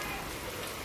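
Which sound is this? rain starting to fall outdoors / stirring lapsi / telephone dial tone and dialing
rain starting to fall outdoors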